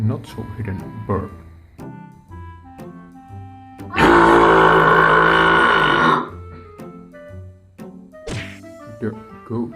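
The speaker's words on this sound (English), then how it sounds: "The not so hidden burp." A long, loud, rough burp roars out for about two seconds, a not-so-hidden belch standing out clearly between stretches of tonal music and effects.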